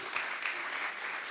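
Faint audience applause at an athletics hall of fame ceremony, a brief, steady wash of distant clapping with no voices on top.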